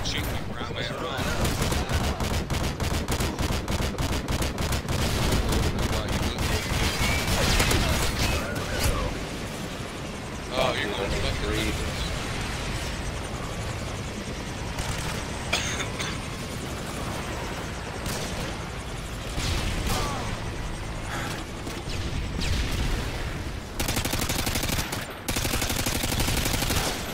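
Rapid bursts of gunfire and machine-gun fusillades in a shooter video game, dense and loud throughout, with sharp shots and explosions, and someone talking over the action at times.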